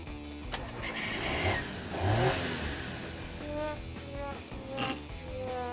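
A Daewoo Matiz cranks and catches, its small engine revving roughly, then fading and sputtering as it stalls, close and fairly loud with no talk.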